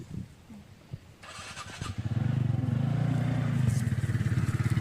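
A TVS scooter on a high mountain trail is started with a brief cranking clatter, then the engine catches and settles into a loud, steady, close running drone.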